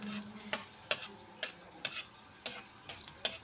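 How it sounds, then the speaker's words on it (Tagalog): Garlic sautéing in a pan for chicken tinola: a soft, close sizzle under a regular series of light stirring clicks and scrapes of a utensil against the pan. "haluin po natin, igisa po natin ang ating bawang"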